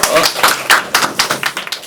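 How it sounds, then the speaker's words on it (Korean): An audience at a Korean talk show debate claps in a brief, close, loud burst of rapid hand claps lasting under two seconds. "일단 박수 한번 주세요."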